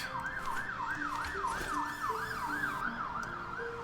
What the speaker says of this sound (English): Thank you for that ambulance.